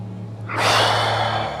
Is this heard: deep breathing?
yes